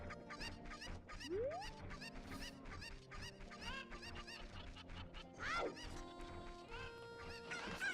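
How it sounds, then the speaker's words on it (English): Chickens in the Nintendo game Ocarina of Time cluck and squawk in quick, bright bursts, with a couple of rising and falling shrieks, over a light game background. "This chicken just juked me."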